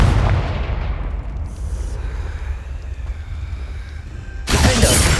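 A Confringo fire spell blasts in the video game Hogwarts Legacy, with a loud booming burst, a rumbling fade, then a second sharp explosive burst near the end.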